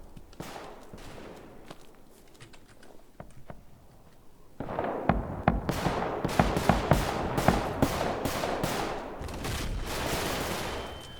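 Gunfire in the Roblox FPS game Front, a quieter stretch of scattered distant shots followed by a dense run of loud, rapid cracks and bursts that continues to the end.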